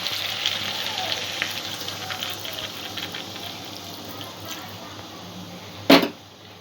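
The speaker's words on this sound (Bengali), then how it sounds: "একটু জল দিয়ে দেবো যাতে সব কিছু সেদ্ধ হয়ে যায় ভালোভাবে" Water poured into a pan of cooking fish head curry with ash gourd sets off a bright, steady hissing sizzle that slowly fades, ending with a sharp clink near the end.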